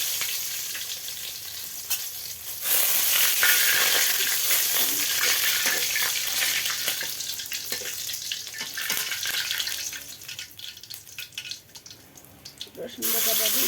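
Cumin seeds, dried red chillies and bay leaves hit hot oil in a pan, giving a loud, steady, hissing sizzle that rises sharply and then fades and swells over several seconds, with faint kitchen clatter.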